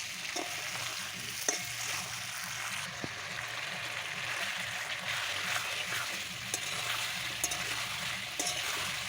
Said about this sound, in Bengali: বেশ কিছুক্ষণ পর আমি ভেজে রাখা আলুটা দিয়ে দিলাম। দুটোই এখন সুন্দর করে পাকিয়ে নেব।